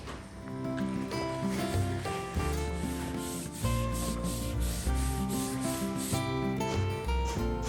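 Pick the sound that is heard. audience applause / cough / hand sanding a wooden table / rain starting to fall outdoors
hand sanding a wooden table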